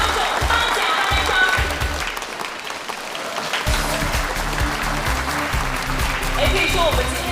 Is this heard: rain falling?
no